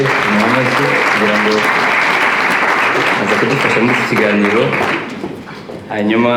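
An audience at a youth and leaders' gathering in Paris applauds steadily and loudly, a thick sustained roar of clapping with a voice speaking over it, dipping briefly near the end.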